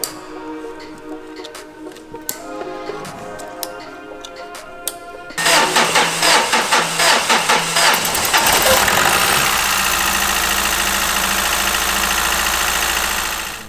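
A Mazda 2.2 diesel engine cranks in a rapid rhythmic chug, then catches and settles into a loud, close, rough idle with a clattering diesel knock.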